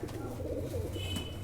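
Soft, low cooing of a Ferozpuri pigeon close by at a Sunday pet market, a short burbling call over faint background noise.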